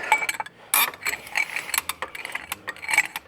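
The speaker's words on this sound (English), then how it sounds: "it's really, really tight, this bolt, so I might need a breaker bar just to get this going" A breaker bar works loose a tight bolt on a Honda CRF 300 Rally during a crash bar fitting, giving a quick run of sharp metallic clicks and ticks up close, with bursts of irregular rattling.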